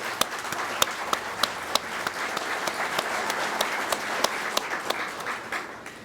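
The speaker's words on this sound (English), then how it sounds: "Let's give a round of applause to our officials from our state and government agencies." Audience applause for state and government agency officials at the dedication of the Byron Herbert Reece Farm and Heritage Center: a steady, moderately loud ovation of many hands with a few sharper nearby claps standing out, fading slightly at the end.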